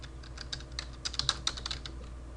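Quiet, irregular keystrokes on a computer keyboard while data is typed into a spreadsheet cell, light clicks tapping alone in a still room.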